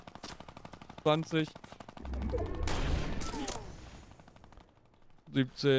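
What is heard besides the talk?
gunfire from the video game Fortnite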